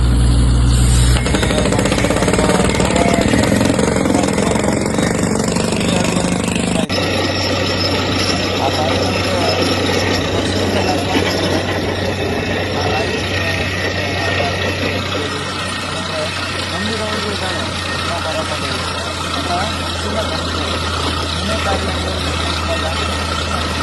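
A vehicle engine idles at a village hilltop temple in Badepura, Surapura taluk, a steady low rumble running through most of the stretch beneath background voices and crowd noise.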